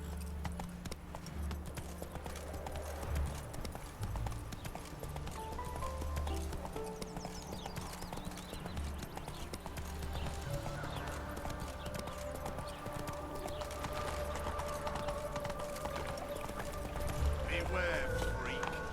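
Roach gallops in The Witcher 3 with a continuous rapid drumming of hooves over nearly twenty seconds, joined by brief speech and a snort or whinny toward the end.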